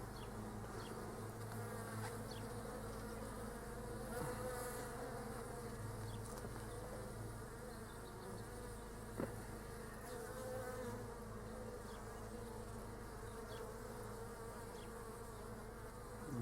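Bees buzz continuously while foraging for nectar and pollen outdoors, a faint, steady droning hum with occasional closer passes and no talking.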